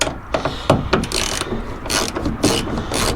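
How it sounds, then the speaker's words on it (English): A ratchet loosens the bolts on a 2005–2021 Nissan Frontier tail light. It gives a loud, close run of rapid pawl clicks in several quick bursts, with no talking. "Taking off the bolts."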